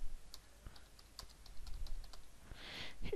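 Fingers tapping a computer keyboard while entering text in MS Word, producing quiet, rapid, irregular key clicks close to the microphone with no speech.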